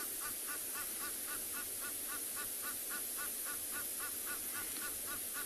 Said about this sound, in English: You hear the Egyptian geese starting to vocalize now as well.